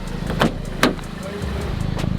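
Exhaust of a crash-repaired VW Scirocco running at a steady, moderate level, a low continuous drone with a couple of brief louder bumps, while a person talks over it.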